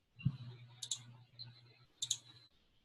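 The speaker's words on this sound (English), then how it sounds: "I'll go ahead and click on that one" Two crisp computer mouse clicks, each a quick double snap about a second apart, heard close and quiet over a faint steady hum.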